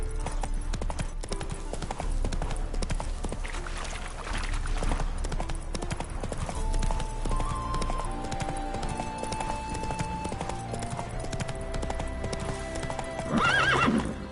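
Roach, a horse in The Witcher III, gallops with steady clip-clop hoofbeats and a whinny near the end, set against continuous in-game music and ambience.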